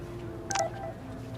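A brief phone text message chime from Life is Strange sounds once, a short bright tone over faint background hum.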